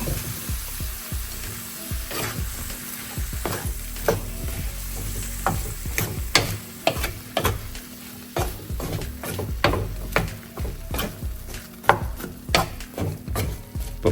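Mulberry pickle simmering in a pan after a splash of vinegar, with a soft bubbling sizzle beneath repeated sharp scrapes and taps of a spoon stirring against the pan, close and uneven in rhythm, no speech.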